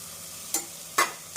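Quiet sizzling in a pan of tomato biryani masala broken by two brief scraping stirs, close by with no voices.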